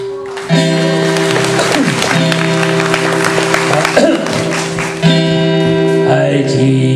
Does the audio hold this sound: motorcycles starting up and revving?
no